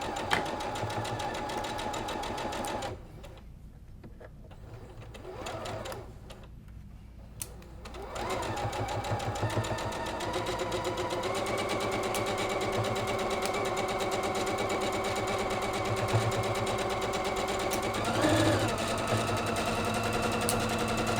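Sewing machine stitching a quarter-inch seam on a quilt block, a steady mechanical whirring that runs nearly continuously with two brief slowdowns, fairly close and moderately quiet.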